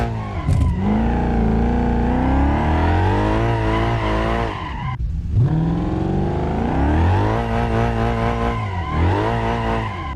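A Bolide supercar in BeamNG Drive, set up for drifting, revs hard with its engine note climbing and dipping as it slides and spins out, tires squealing loudly and close throughout, with no talk.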